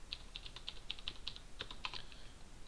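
Keys clack on a computer keyboard as code is typed, a quick, faint run of crisp taps in uneven bursts against a low background hiss, with no voices.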